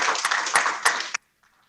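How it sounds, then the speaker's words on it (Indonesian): An audience at the opening of an ATSDI national coordination meeting at Jababeka applauds Pak Geri, a lively burst of clapping that ends abruptly, followed by near silence. "kita beri tepuk tangan dulu yang meriah,"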